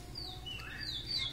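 A chopi blackbird in an aviary chirps with a few quick, thin calls over a soft background hum, fairly close and not very loud.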